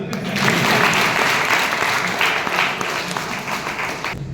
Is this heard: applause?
yes